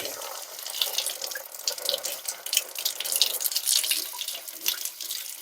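Hot tap water pouring steadily down a Lyman Great Plains rifle barrel into a kitchen sink, a continuous close hiss and splash with faint dripping and no speech.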